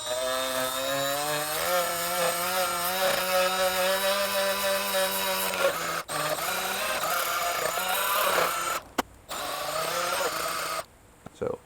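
Milwaukee die grinder porting a BP4W cylinder head, a steady high whine with shifting pitch as the bit smooths the runner into the valve seat, running loud and continuous with brief cut-outs near the end.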